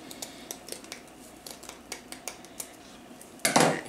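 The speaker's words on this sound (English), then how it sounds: "I can cut these chenille stems with them and not worry about nicking my blades up" Scissors snip through craft chenille stems for a Valentine's Day dollar-store mesh wreath, a series of sharp, close clicks and cuts at an uneven pace, ending in a louder rustling crunch.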